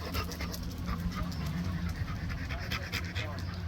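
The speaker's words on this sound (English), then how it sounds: "Wet dog. Hey, dog." A wet farm dog pants rapidly and steadily right up close, a continuous rhythmic huffing with faint background noise.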